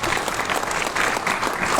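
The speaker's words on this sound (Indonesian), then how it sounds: "tepuk tangan dong untuk Polda." Audience applause for the West Java regional police at a notary association workshop, a steady dense clapping from a hall crowd with no voices.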